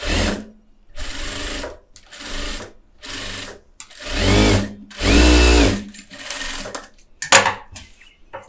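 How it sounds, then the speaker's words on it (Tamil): A tailor's sewing machine runs a garment neckline seam in short, loud whirring bursts separated by brief pauses, roughly eight runs in a row, with no talk over them. "இப்போ இந்த கழுத்தையும் சேர்த்து தையல் போட்டுடலாம்."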